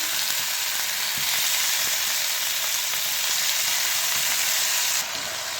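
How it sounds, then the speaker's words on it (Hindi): Cubed chicken frying in a little oil on a pan gives a loud, even, continuous sizzle with faint scrapes, dropping slightly near the end. "इसमें मैं ये क्यूब किए हुए चिकन डाल दूँगी और थोड़ा सा फ्राई होने दूँगी।"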